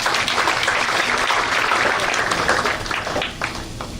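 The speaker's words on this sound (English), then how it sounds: "Round of applause for him, please." A crowd applauds at an awards function, loud, dense clapping that holds steady for several seconds before easing slightly toward the end, with no speech over it.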